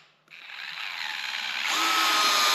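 A DeWalt gyroscopic screwdriver starts up after a brief pause and drives a screw, its motor whirring with a ratcheting, geared buzz that builds steadily and grows louder near the end.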